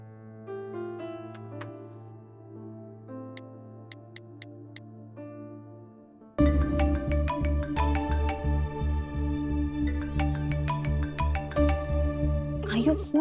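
A mobile phone rings with a melodic ringtone, a soft tune at first, then a louder, fuller repeating melody that keeps going unanswered.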